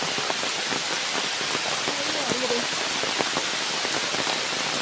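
Heavy rain pours steadily onto rubber trees, a dense continuous hiss with scattered louder drops, close and loud throughout.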